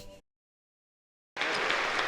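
A Las Vegas crowd applauds at a 1973 closing-night concert. After a brief cutoff and silence, dense, steady clapping swells in suddenly and continues loud to the end.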